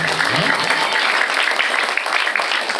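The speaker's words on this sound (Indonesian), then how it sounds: "Tepuk tangan buat adik-adik kita." Students at an Islamic boarding school motivational seminar applaud together in a sustained, dense burst of clapping that holds steady and close throughout, with faint voices mixed in.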